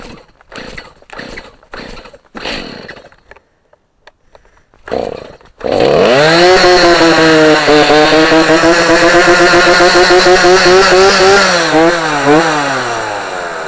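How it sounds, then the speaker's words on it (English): A chainsaw cutting down trees on cattle pen land starts after several pulls on the cord, then roars loud and close, its engine revving up and down as it bites into the wood. "I'm going to go ahead and start cutting these trees down"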